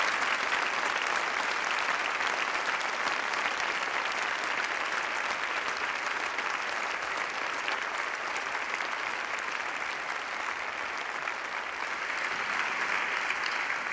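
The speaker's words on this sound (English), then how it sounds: "Please give them an enormous round of applause." Sustained, dense applause from a large graduation-ceremony audience at a Faculty of Medicine and Natural Sciences event, steady and loud throughout with no talk over it.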